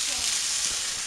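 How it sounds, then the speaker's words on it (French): Plantains fry in a saucepan with a steady, even hiss of sizzling oil, close and constant, with faint low murmurs beneath. "mes bananes jaunes que je vais mettre dans la casserole à chauffer"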